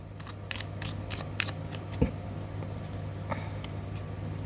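Tarot cards being shuffled by hand, light papery riffles and flicks with a sharper snap near the middle, close but faint over a low steady hum.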